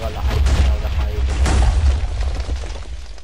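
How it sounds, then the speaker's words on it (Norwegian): An explosion in a Minecraft Splegg match: a loud, rumbling boom with crackling debris that holds for a few seconds before tapering. "Heldig eksplosjon."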